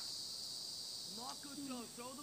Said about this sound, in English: I hear like cicadas calling.